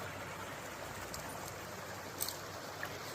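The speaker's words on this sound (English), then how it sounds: "You can hear the flowing water." Flowing water of West Clear Creek running through a sandstone canyon: a soft, steady, continuous rush with no breaks, fairly faint and heard alone.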